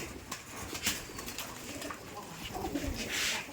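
Giriraj pigeons at a colour-matched pigeon farm in Rajshahi coo steadily, close and fairly loud, with brief wing flutters and a little faint talk in the background.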